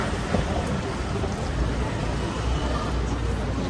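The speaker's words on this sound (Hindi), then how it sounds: "बारिश बारिश बारिश" Steady, loud rain falls on an Istanbul street during a walking tour, a dense unbroken hiss of drops with a low rumble underneath and no pauses throughout.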